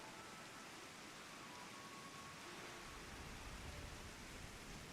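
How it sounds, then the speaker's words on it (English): Steady rain falling in Final Fantasy XIV, a dense even hiss with no variation in level from start to finish and no voices. "Glad they're painting when it's raining outside."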